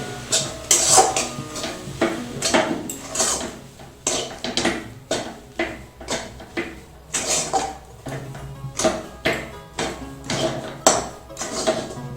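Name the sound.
stirring rice flour into water in a pot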